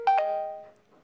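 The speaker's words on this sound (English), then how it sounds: "So this is what default Messenger sounds like." The default Facebook Messenger notification chime plays once: a short, clean electronic two-note ding that rings out briefly and decays within a second.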